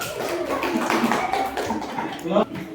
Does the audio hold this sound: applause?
yes